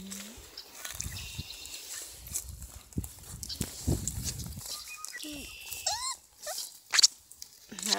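Beagle puppies yip and whine in short, scattered bursts close by outdoors, with soft scuffling and occasional squeaky calls between them.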